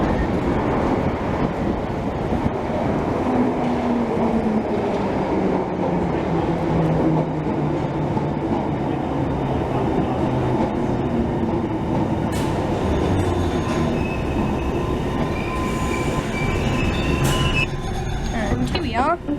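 London Underground train pulling out of Baker Street station, a loud rumbling roar with wheel squeal and clatter that carries on steadily, as people talk faintly nearby.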